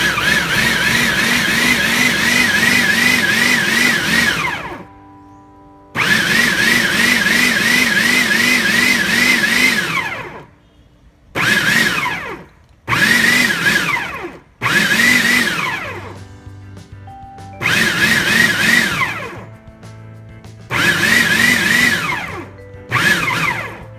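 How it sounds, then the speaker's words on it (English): Food processor pulsing hot peppers for a chunky Trinidad-style pepper sauce, loud whirring motor bursts of several seconds each separated by short pauses, about six pulses, close and with no talking. "I am going to pulse it. You will hear me when the processor is running,"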